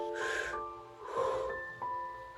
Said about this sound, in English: We breathe in through the belly, in through the chest, exhale through the mouth.